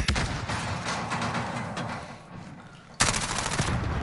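Gunfire in a shooter video game, rapid bursts of automatic shots crackling in dense succession, with a brief lull before a loud renewed volley near the end.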